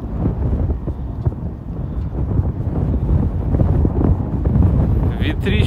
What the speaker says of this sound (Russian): Ветрище сегодня на улице.